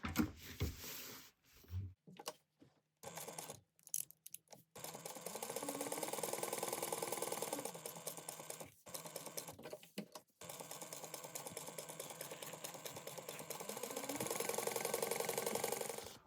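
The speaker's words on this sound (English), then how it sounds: "we're going to sew around the outer edge at 1/8 of an inch" A sewing machine stitches an overlay around the outer edge of a laptop bag at an eighth-inch seam. Short bursts of mechanical whirring start it off, then longer steady runs of close, fast needle chatter follow with brief pauses between them.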